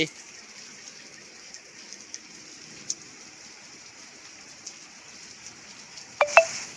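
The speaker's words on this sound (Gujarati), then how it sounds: "સરસ મજાનો વરસાદ પડે છે।" Rain falls steadily on a sheet-metal roof as a soft, even hiss, with a few scattered drips and sharper taps, ending in a brief louder burst; first rain of the season in Godhra.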